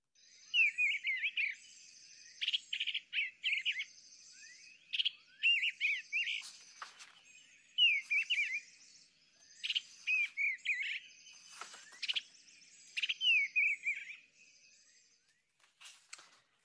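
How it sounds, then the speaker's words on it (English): An eastern bluebird and an American robin sing outdoors in southwestern Ohio, with repeated short warbled phrases in bursts about a second apart against a quiet background and an insect hum. "the birds you're going to hear is the eastern bluebird and American robin."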